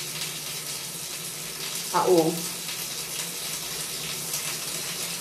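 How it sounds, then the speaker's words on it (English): Shower running in a hotel room, a steady hiss of spraying water filling the background, with a brief voice cutting in near the middle. "I have a shower running."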